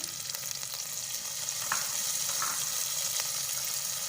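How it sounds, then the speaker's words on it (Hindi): Carrots and capsicum fry in oil in a pan, giving a soft, steady sizzle with a couple of faint clinks from stirring. The sound is quiet and even throughout, and no one speaks. "2 से 3 मिनट बस हम इनको फ्राई करेंगे ऑयल में"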